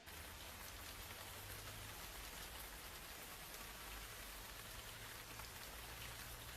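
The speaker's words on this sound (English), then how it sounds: "Heavy rainfall brings a halt to the digging." Heavy rainfall at an archaeological dig site, a steady, dense hiss of rain pattering on the ground with no break, no voices and no other sounds.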